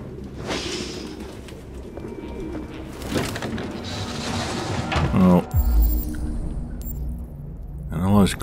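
Pigeons cooing inside a nest-filled room in the video game Detroit: Become Human, soft repeated coos and rustling heard under a man's ongoing speech, with a couple of louder coos near the end.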